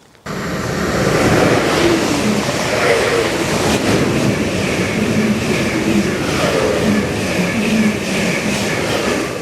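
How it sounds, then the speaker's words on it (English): Two trains rush through a Greater Anglia station without stopping, a loud, close roar of wheels on rails with rhythmic clacking and faint squeal, building quickly and holding steady. "Quick little detour there to see a couple of trains that weren't stopping at the station. 2 at the same time."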